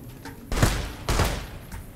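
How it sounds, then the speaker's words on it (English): Gunfire in the video game Fallout New Vegas, two loud, broad bursts about half a second apart with a fainter third shot near the end, heard alone with no talk over it. "Who is shooting me?"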